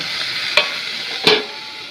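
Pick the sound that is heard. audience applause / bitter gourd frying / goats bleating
bitter gourd frying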